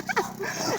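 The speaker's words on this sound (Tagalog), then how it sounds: "Ang bait nitong aso na yan, si Nami." A small dog yips and whimpers in a few quick, close bursts, with voices nearby.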